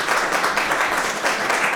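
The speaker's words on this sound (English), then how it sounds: "Let's give her a round of applause." Applause from an audience at an NAACP branch emergency meeting in Norwalk, a dense, continuous patter of many hands at moderate loudness, unbroken for the whole stretch.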